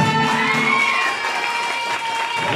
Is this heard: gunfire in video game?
no